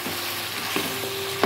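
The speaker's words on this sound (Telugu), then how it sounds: "వంకాయ కూడా శుభ్రంగా నూనెలో వేపేసి" Brinjal fries in oil with a steady, close sizzle, with faint stirring clicks now and then.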